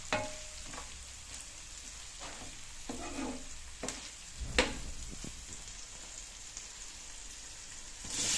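Onions fry with salt in a pan for tomato rice, a soft continuous sizzle broken by a few stirring scrapes and clinks.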